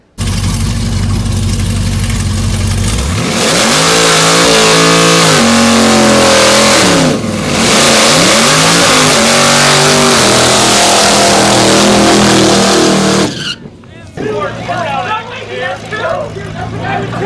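Loud engines roar and rev up as a 2017 and a 2013 Chevrolet Camaro ZL1 accelerate hard in a drag race, the pitch climbing and shifting, then the noise drops off into a rougher, fading rumble.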